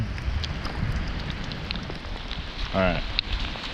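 Steady rain falls outdoors in a thunderstorm, a dense close patter on surrounding surfaces throughout. Someone speaks briefly near the end over the rain.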